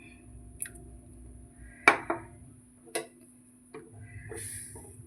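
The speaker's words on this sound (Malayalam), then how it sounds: "കട്ട കെട്ടാതെ ഇളക്കിക്കൊണ്ടേയിരിക്കണം." Custard is stirred into milk heating in a pan: a spoon knocks and clinks against the metal a few times, sparse and close, over a quiet background.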